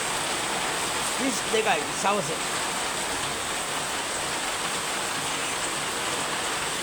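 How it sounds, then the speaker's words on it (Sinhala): Rain begins falling in Anuradhapura in the evening, a steady, dense hiss that stays constant throughout, with a voice briefly speaking over it. "මේ වෙනකොට අනුරාධපුරයේට ක්‍රමයෙන් වැස්ස පටන් ගන්න තියෙනවා"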